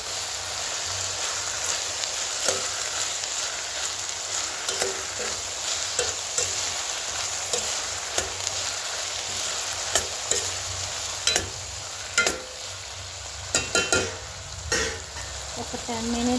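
Brinjal curry made with homegrown eggplants sizzles and fries steadily in a pan, a continuous crackle with occasional stirring clatter, close and moderately loud with no talking.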